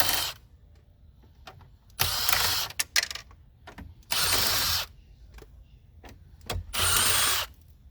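Power driver with a T20 Torx bit backing out screws holding a 2010–2013 Range Rover Sport navigation screen: three loud whirring bursts of a couple of seconds each, separated by clicks and handling noise, close to the microphone.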